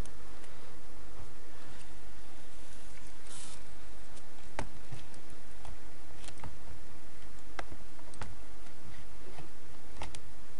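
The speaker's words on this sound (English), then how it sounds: "we type in the reboot command." Keys tapped on a computer keyboard, entering a reboot command for a Samsung Galaxy phone: a sparse run of sharp individual clicks over a steady hiss, close and moderately loud, with no talking.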